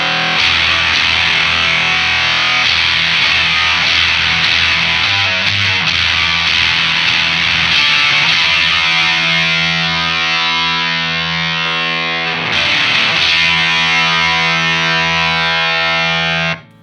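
Electric guitar through a Jam Pedals Octaurus LTD octave fuzz in full voice mode, a thick, heavily distorted wall of sustained chords, loud and unbroken apart from one brief dip, ending abruptly.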